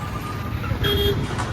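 Busy road traffic in Karad: engines rumble close by while car horns sound in short tonal toots, one early and another brief overlapping honk midway.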